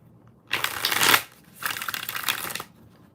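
Tarot cards shuffled in two riffling bursts with a short pause between, crisp and close, with no voice over them.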